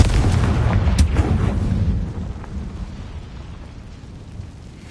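Confringo blasting curse explosion from Harry Potter, a deep rumbling blast that booms loudly at the start and then rolls away into a fading low rumble.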